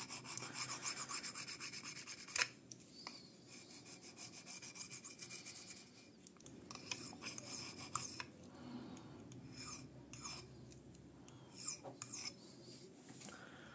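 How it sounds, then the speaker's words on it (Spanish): A Victorinox Tourist knife edge is drawn along the rim of a drinking glass in faint, repeated scraping strokes with small clicks, quiet and close, with no talk. "ya le hemos dado un par de pasadas por el vaso"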